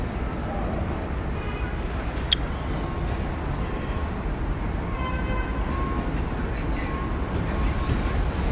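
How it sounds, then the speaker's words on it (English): A Bronx train pulling into a station, a steady loud rumble of wheels and rails with faint squeals, heard by someone waiting on foot outside. "Train is coming right now."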